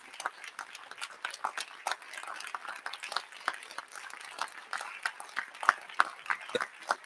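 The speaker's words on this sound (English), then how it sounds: "Give the Rev a round of applause" Conference crowd applauding after a keynote, with crisp individual claps standing out from a thinner, scattered patter of hands that continues for about seven seconds, then sharpens near the end.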